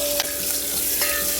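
Oil heating in a pan for tomato curry, a loud close hiss and sizzle with a faint steady whine and a couple of sharp pops.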